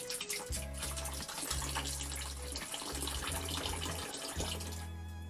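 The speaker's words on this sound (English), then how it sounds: "We're going to pour it down the toilet, this is going to go to our black water tank." Liquid pours steadily into an RV travel trailer toilet bowl at close range, a continuous gurgling stream with slight changes in flow.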